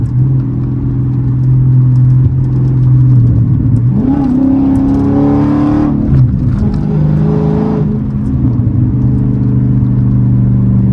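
A Hemi Dodge Challenger SRT 392 Scat Pack in track mode accelerates hard with a loud, deep engine drone, its pitch rising through a pull, dipping at a shift, then climbing again.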